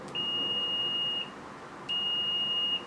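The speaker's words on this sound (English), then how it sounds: "Here's our standard continuity test." Steady high-pitched multimeter continuity beep while probing the starter relay pins of a 2002 Isuzu Trooper 2WD: two clean sustained tones, each about a second long, separated by a short gap, clear over faint room hiss.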